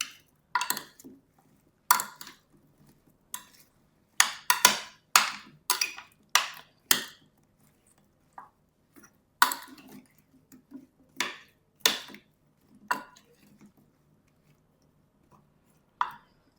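Potatoes being stirred in a pan for a Mont d'Or and truffle dish, heard as a series of close, sharp scraping and clattering strokes in irregular bursts with quiet gaps between them.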